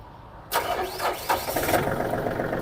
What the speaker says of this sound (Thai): เสียงตัวรถนะคะ สตาร์ทติดง่ายนะคะ เครื่องดีเกียร์ดีค่ะ